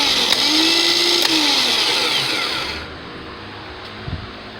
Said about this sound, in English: you won't be able to see the Bendix or the charger drive kick out, but you'll be able to hear it